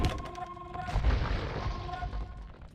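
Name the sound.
trebuchets firing in a strategy video game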